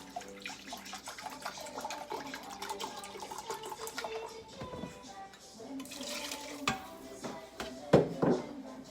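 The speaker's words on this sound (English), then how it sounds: "So I'm doing 3 cups of broth, pouring it right over my bouillon cube." Three cups of broth poured over a bouillon cube in a kitchen, liquid splashing and trickling at close range with a few clinks, no talk.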